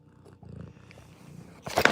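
A house cat purrs softly in a low, rumbling flutter for a moment before a louder rustle, close and quiet, with no talking.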